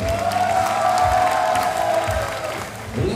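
A large crowd in a volleyball arena applauds and cheers as a Koszalin women's team player is introduced, with dense steady clapping and whoops filling the space while an announcer's voice carries over it.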